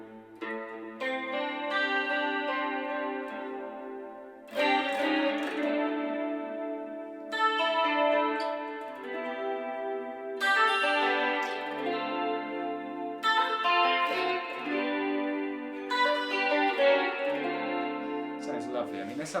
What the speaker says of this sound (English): you can hear I've got the delay